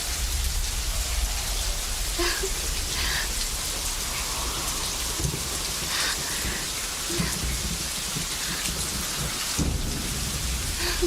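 Heavy rain and rolling thunder in a Hindi-dubbed Indian film scene, a dense constant downpour with low rumbles swelling and a couple of louder cracks, no voices.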